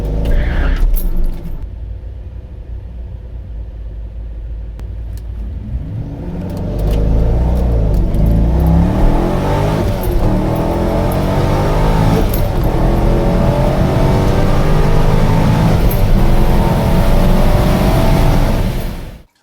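Supercharged C5 Corvette street car accelerating hard from a standstill to 130 mph, a loud sustained engine roar climbing through repeated gear pulls, with rising and falling rev sweeps up close and no talk.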